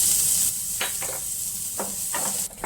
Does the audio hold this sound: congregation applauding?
no